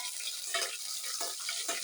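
Mustard seeds splutter in hot coconut oil for a mango ginger pickle, a faint hissing sizzle broken by several soft crackling pops over under two seconds, with no talking.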